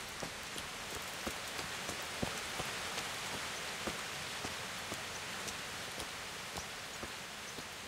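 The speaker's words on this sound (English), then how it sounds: "The rain sort of stops and the sun bursts through and stuff." Steady rain falls across the countryside of Kingdom Come: Deliverance, a dense even hiss of droplets on surfaces with scattered sharper individual drop ticks, continuous and moderately loud with no voices.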